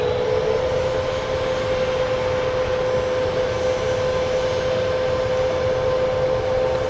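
A jet airliner at Dallas Love Field, its engines giving a steady, loud roar with a sustained whine held evenly throughout.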